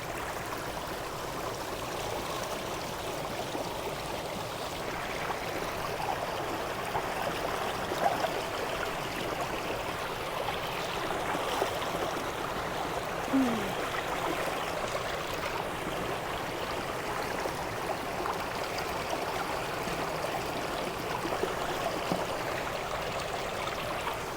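A river stream flows steadily beside an outdoor cooking spot, a soft continuous broadband rush of water that stays even and moderately quiet throughout, with no voices.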